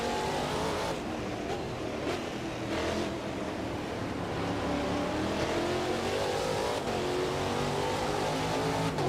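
Race car engine in the Automobilista 2 racing game drones loudly and steadily through the whole stretch, its pitch climbing and falling as the car accelerates and shifts, with no one talking over it.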